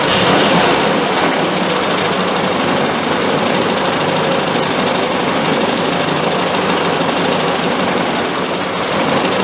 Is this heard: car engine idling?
yes